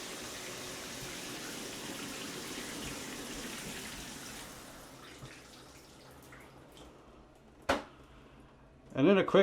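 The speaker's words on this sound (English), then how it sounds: "Now this one also does have the jet sprayer, so you can hit that" Water sprays from a jet sprayer setting on a G-Promise 12-inch rain shower head with handheld spray combo. The steady rushing hiss fades over several seconds, and a couple of sharp knocks follow near the end.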